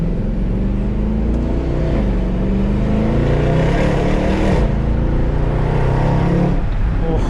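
Mercedes-AMG car engine idling and revving with a new aftermarket H-pipe exhaust setup from Centerline Motorsports, a loud, steady low rumble with a rising rev near the end, close by.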